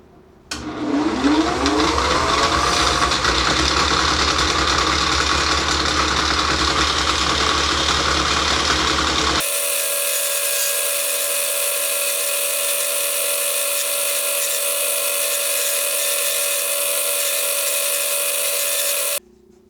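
A wood lathe spins steadily while turning new legs for a Voice of Music record player, a loud continuous whir that shifts abruptly halfway through to a harsher, brighter steady tone, with no talk.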